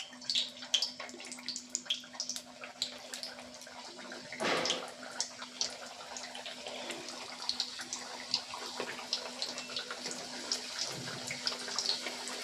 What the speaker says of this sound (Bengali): এই যে পুরগুলো যে আমি তৈরি করে রেখেছি তেলে ভেজে নেব